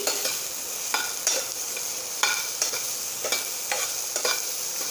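A spoon works through dahi, lauki and oats in a pan, giving regular clacks and scrapes about once a second over a constant sizzling hiss.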